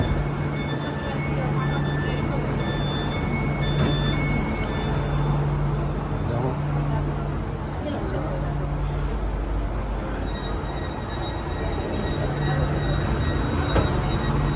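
A Catania metro train rolls into the station with a steady low rumble and rail hum, faint squeals and station noise throughout, with some voices in the background.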